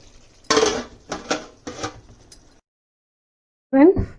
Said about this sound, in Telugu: ఒకసారి కలిపి మళ్ళీ మూత పెట్టేసుకుందాం.